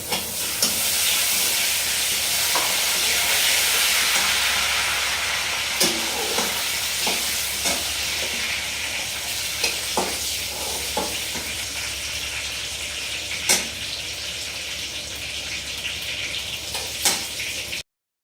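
Cumin seeds and two bay leaves sizzle in hot oil as a tempering for kabuli chana, a steady close hiss broken by scattered sharp pops and crackles, with no talking.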